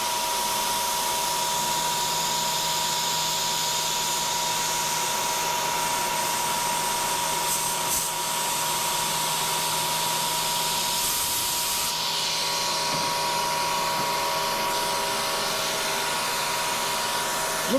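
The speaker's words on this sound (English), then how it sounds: "The little pieces of sheet aluminum are curling up as they cut" CNC Bridgeport mill cutting thin sheet aluminum, a steady loud broadband machining whine with a constant tone running throughout, small chips curling and catching in the cutter, no voices.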